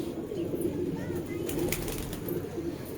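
Pigeons cooing in a loft, soft low repeated coos with some rustling, fairly close and steady, a faint voice now and then.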